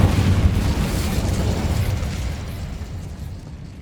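A fiery blast from the Incendio spell in the video game Hogwarts Legacy, a loud explosive whoosh at the start that rumbles and gradually fades over several seconds.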